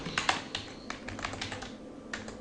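Quick bursts of keystrokes on a computer keyboard as a project name is typed into Unity, a series of close, crisp taps with brief pauses and no talking.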